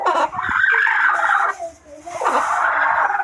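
Hens kept for brooding and hatching eggs call loudly and continuously up close, a harsh, strained vocalizing that dips briefly in the middle before resuming.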